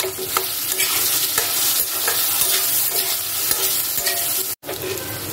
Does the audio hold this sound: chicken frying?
yes